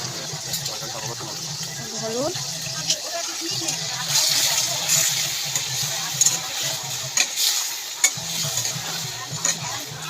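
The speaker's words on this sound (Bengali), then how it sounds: "হলুদ দিয়ে আবার ভালো করে নিয়েছে এসে দেবো পোস্তটা ভাজা ভাজা হয়ে যাবে" Poppy seeds and turmeric frying in a pan give a soft sizzle under repeated stirring and scraping strokes, with a low hum and brief water-like splashes in the background.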